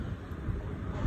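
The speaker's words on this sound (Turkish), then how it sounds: "Hafif de bir rüzgar var." Light wind buffeting against a microphone outdoors on Heybeliada island during a forest fire, a low, continuous rumbling gust with soft fluctuations and no voices.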